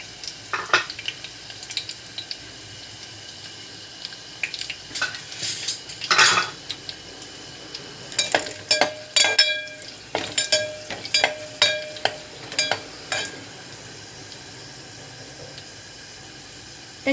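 Garlic frying in a pan with clinks and scrapes of a spoon against the metal, soft sizzle underneath and a run of sharp stirring clatters, no speech.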